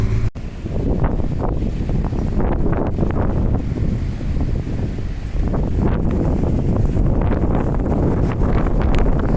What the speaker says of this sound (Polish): Wiatr zawiał.